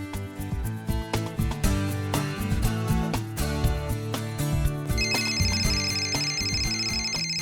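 A looping electronic ringtone melody with steady beats and layered tones plays loudly and continuously, with a higher chiming line joining partway through.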